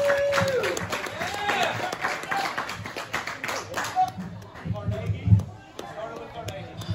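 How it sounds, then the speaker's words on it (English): Stand-up comedy audience applauding as a comedian is welcomed to the mic, with scattered claps under a host's voice that thin out and fade toward the end. "Nice round of applause for Deep Patel"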